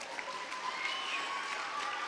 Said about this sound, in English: So can we just give the teen helpers a round of applause?